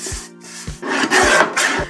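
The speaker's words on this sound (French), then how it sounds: "on va reprendre une carte 10 par 15 que je vais découper avec la guillotine" A paper guillotine trimmer cutting a 10 by 15 cm craft card, a series of close, loud rasping strokes with short pauses between them and no talk.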